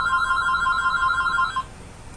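A telephone rings with a steady, bright electronic trill for about a second and a half, then stops abruptly, leaving only a low room hum.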